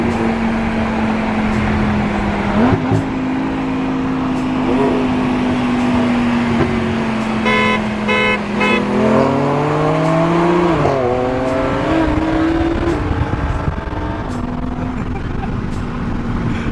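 A stock BMW F80 M3 engine droning steadily as the car accelerates, its tone climbing through gear changes, loud and close inside the cabin with occasional voices over it.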